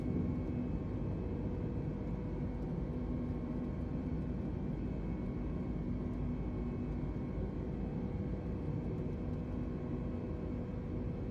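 An Airbus A320neo airliner climbs after takeoff from New York JFK in Microsoft Flight Simulator 2020, a steady, fairly quiet jet engine rumble with a continuous hum and no voices.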